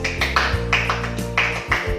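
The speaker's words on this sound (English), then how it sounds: "I would like to convey my gratitude by this 3 cheerful claps" A parent gives a few cheerful hand claps, sharp separate smacks spaced unevenly over a steady humming tone that runs underneath the whole time.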